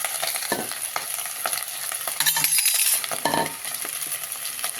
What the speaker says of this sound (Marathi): आता आपण हा भात टाकून घेऊ